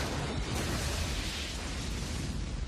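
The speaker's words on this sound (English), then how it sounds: "Explosion." A broad, roaring explosion sound effect rumbles steadily throughout, loud and dense from deep bass up through a hissing top, with no talk over it.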